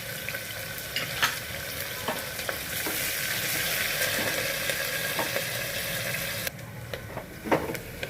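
Four slit green chillies and one onion fry and soften in a pan, giving a steady close sizzle broken by scattered scraping stir clicks, with no voices over it.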